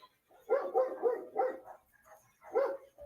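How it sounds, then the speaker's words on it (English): A dog barks excitedly indoors in a quick volley of four or five sharp barks, a brief pause, then another burst, close and fairly loud. "And the dog's going nuts again."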